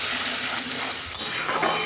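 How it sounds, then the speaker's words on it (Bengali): Masala of spices and salt being stirred and fried in oil for a Bengali egg curry, a soft continuous sizzle with faint scraping, close and brief, no talking. "এইভাবেই কষাতে থাকি,"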